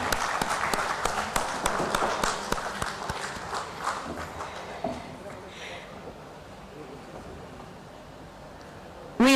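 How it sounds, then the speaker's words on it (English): An audience at the NHAI InvIT bond listing ceremony at the BSE claps to welcome a minister, with sharp claps that fade steadily into a quieter room. "Let us welcome him with a standing ovation and resounding of claps"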